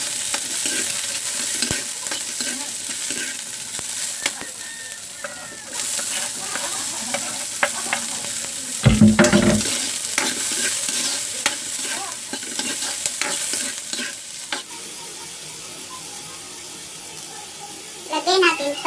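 Onions sautéing in smoking hot oil for a green papaya dish, a loud continuous sizzle and crackle with spatula scraping and a surge of hissing partway through, close and dominant, with talking over it.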